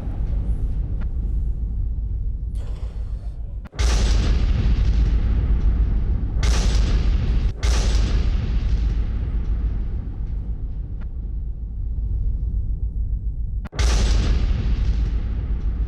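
Loud explosions from an attack on a Ukrainian military convoy on the outskirts of Zaporizhzhia, with four sharp booms spaced several seconds apart over a continuous roaring rumble.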